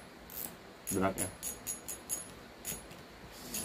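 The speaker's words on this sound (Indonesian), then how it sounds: "coba kita bunyikan dragnya" The drag of a Kyoto Kaigen 500 HP fishing reel gives off a quick series of soft, light clicks close by, a brief ratcheting run with a few separate ticks before it.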